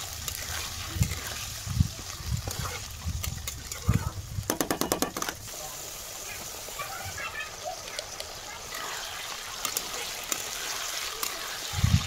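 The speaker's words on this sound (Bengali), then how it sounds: "দেওয়ার পরে আমি তেলের ওপরে ভালোভাবে নেড়ে চেড়ে একটু ভেজে নেব।" Pieces stirred and fried in hot oil in a pan: low splashy sizzles and stirring bumps, a quick burst of sharp clicks midway, then a quieter steady fry.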